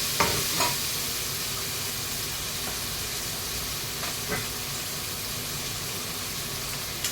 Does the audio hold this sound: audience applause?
no